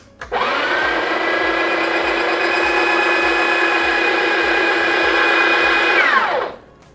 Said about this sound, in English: let's grind some beans.